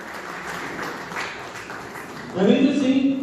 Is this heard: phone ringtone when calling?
no